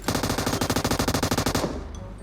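Automatic gunfire in PUBG Mobile: a rapid, loud burst of about twenty evenly spaced shots rattles for around a second and a half, then cuts off, leaving faint ambient sound.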